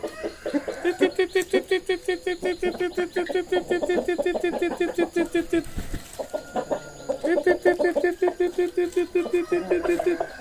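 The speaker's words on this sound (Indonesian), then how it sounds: "Ini mano ini burungnya" A pet bird, apparently a chicken, gives a long series of rapid, rhythmic clucking calls, close and fairly loud, broken by a short pause midway before the clucking resumes.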